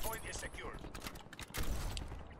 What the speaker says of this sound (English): Oh, this man's beaming me with an AK.